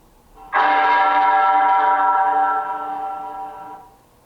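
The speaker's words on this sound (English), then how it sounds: "Scrooge woke to the sound of the bell." A single deep bell strikes once, loud and close, in a stage production of A Christmas Carol, its rich tone ringing on and slowly fading over a few seconds.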